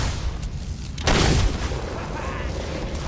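A single loud burst of gunfire from the video game Fable 3, strongly broadband and close, sitting in a dense bed of battle noise and clutter.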